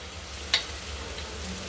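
Beans and eggplant sautéing in a pan, a soft steady sizzle with a single brief clink of utensil near the start, quiet and close.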